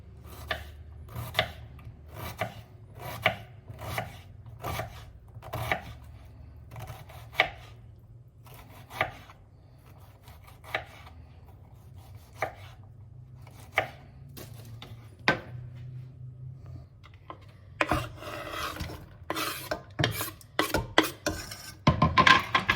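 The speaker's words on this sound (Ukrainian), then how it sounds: "Іду накришувати величезну цибулину величезну морквину" A large onion and a large carrot are chopped on a board with a knife, crisp close thuds coming in steady runs with short pauses, getting quicker and denser toward the end, no voices.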